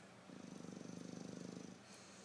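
A cat named Tank purrs with a snore-like rhythm while awake, a close, steady pulsing rumble of about twenty beats lasting roughly a second and a half, then fading back to quiet room hiss.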